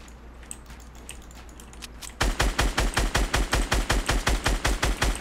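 Rapid automatic gunfire in Fortnite Battle Royale bursts in loudly after a couple of seconds of quiet game ambience, a steady run of evenly spaced shots continuing to the end with no talk.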